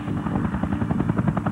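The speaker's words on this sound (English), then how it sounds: "The leader's helicopter!" A cartoon helicopter in the Medabots animated series, a loud close rotor chop with rapid rhythmic thumping over a dense engine roar, continuous throughout.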